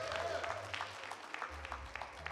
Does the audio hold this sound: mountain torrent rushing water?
no